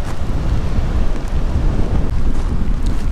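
Strong, cold wind buffets the microphone on Diamond Beach in Iceland, a loud continuous roar with gusty rumbling that fills the whole stretch, with no voices.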